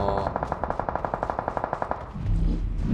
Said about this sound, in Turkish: Aşağıda çatışma var.